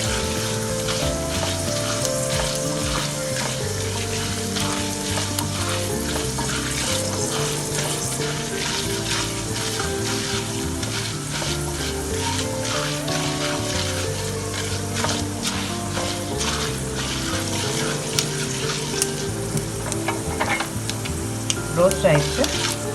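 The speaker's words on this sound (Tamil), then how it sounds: "எல்லாத்தையும் நல்லா ஃப்ரை பண்ணிக்கோங்க. ப்ரௌன் ஆகிற வரைக்கும் ரோஸ்ட் பண்ணிக்கோங்க." Steady close sizzling as the ingredients for kollu sundal, a horse gram dish, fry and roast in a pan. Occasional stirring clinks sound over the hiss, and there is no speech.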